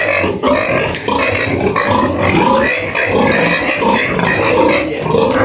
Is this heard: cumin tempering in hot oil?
no